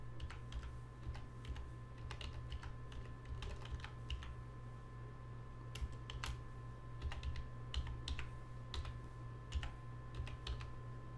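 Fast, irregular clicking of fingers typing on a computer keyboard, soft and close, in continuous bursts over a low background hum.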